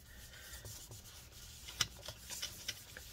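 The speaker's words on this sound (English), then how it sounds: "get some rubbing alcohol on it, and let's go ahead and wipe this up one more time" A folded paper towel soaked in rubbing alcohol wipes across a 15-inch Retina MacBook Pro A1398, producing quiet, close rubbing strokes with a few brief squeaky scrapes.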